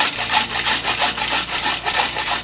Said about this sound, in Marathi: तर चला आपण आता मुळे किसून घेऊ